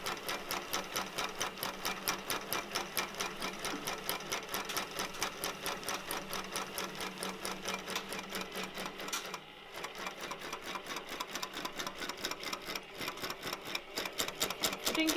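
A sewing machine basts a long edge of fabric with a fast, steady needle chatter, running close and continuous with one short pause partway through.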